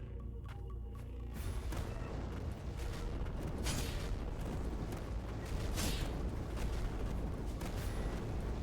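A heavy, bone-rattling explosion in the video game Ender Magnolia: Bloom in the Mist, a sustained roaring rumble with dense low-end and bursts of crackle, loud and continuous throughout with no talking.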